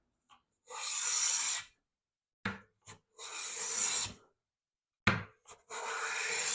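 A hand plane takes shavings off red oak in three long raspy strokes, each a smooth close hiss of the blade cutting, separated by short knocks and pauses.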